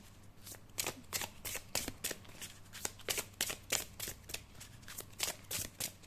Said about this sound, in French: donc je tire qu'une seule carte